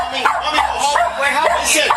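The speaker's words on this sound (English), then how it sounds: "her dog continuously barked at the cops" A dog barks repeatedly at police officers at a murder scene, a run of sharp close barks and yips in quick succession, with people's voices mixed in underneath.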